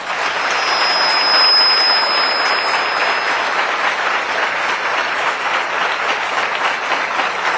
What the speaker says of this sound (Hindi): सभी लोग एक बार जोरदार ताली बजाएंगे।